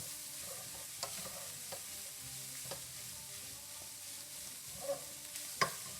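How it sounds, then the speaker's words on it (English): Bolognese sauce being stirred in a pan, with a soft, steady low sizzle and a few faint scrapes and taps of the spoon against the pan, heard close up and quiet with no talking. "I want to mix it up."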